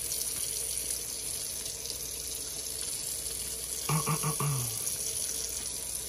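Water runs steadily from a sink tap while a dirty, caked-up pipe is rinsed, with a brief gurgling splash of flow changing partway through.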